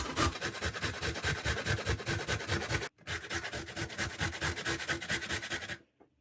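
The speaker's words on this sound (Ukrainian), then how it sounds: "Моркву натираю на мілкій терці." Steady rhythmic rasping strokes, close and continuous, of a carrot grated on a fine grater, with a brief pause midway.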